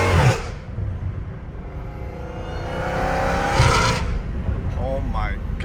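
A 797-horsepower Dodge Hellcat Redeye engine rumbles and revs loudly up close, swelling in bursts of throttle, with people talking over it.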